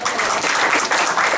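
Audience applause rings out at a Ram Navami katha gathering, a dense, steady wash of many hands clapping together, filling the space without any voices over it.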